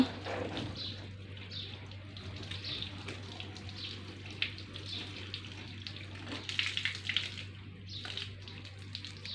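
Water sprays in a steady, hissing rush as a child washes a car, with faint splashing and patter throughout.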